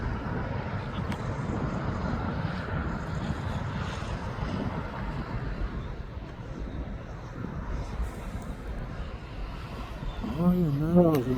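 A jet aircraft rumbles steadily at East Midlands Airport, a broad distant roar with wind buffeting the microphone, while a voice talks near the end.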